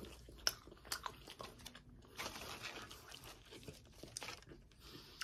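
Close, soft bites and wet chewing on a Wendy's pretzel burger, with crunchy tearing and crinkling wrapper sounds scattered through a quiet indoor setting.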